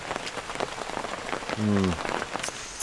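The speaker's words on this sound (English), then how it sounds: "The rain's eased off a bit." Steady rain falling on a surface in the Guyana jungle, a dense continuous patter that stays constant throughout, with a brief low tonal sound partway through.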